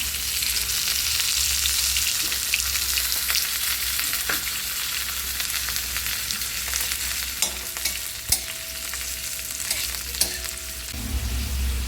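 Onions hiss and crackle steadily in hot oil for a Maharashtrian phodni tempering for a potato and field-bean pod bhaji, with a few sharp clicks from the pan and spoon near the end. No one speaks.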